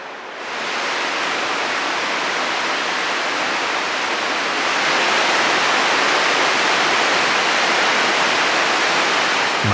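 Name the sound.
water droplets constantly falling in a narrow canyon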